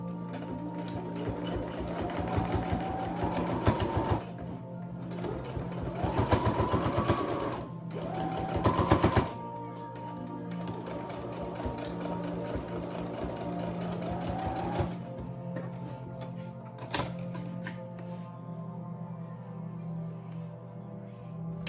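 A sewing machine stitches around a reusable fabric face mask in fast mechanical bursts, close and loud, pausing briefly between runs with a steady motor hum throughout.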